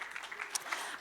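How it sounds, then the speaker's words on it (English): An audience gives a short burst of applause at a talk event in Hawke's Bay, a second of scattered claps from a modest crowd at moderate distance. "give her a round of applause there"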